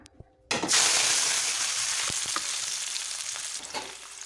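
Green chillies, tomatoes, curry leaves, onion and coriander drop into hot oil and burst into a loud, steady sizzle that continues with a few light stirring clicks.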